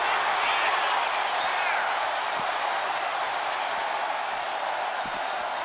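A virtual wrestling arena crowd in WWE 2K25 roars in a dense, unbroken wall of cheering that stays loud and steady, with a few faint thuds scattered through the noise.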